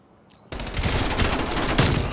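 Rapid MP5 submachine gun fire in a Call of Duty match bursts in after a short quiet start, then runs as a loud, continuous automatic stream with a sharper spike near the end.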